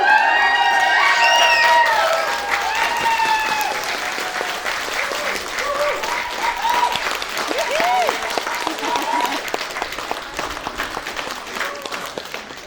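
Wedding guests burst into loud, sustained applause with cheers and whoops after the couple's first kiss, the clapping strongest at first and then continuing more steadily, with shouted voices mixed through the crowd.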